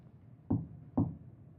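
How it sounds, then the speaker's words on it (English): Two firm knocks on a wooden door, close and clear with a short pause between them, used as a sound effect in a spooky story. "There was a knock on the door."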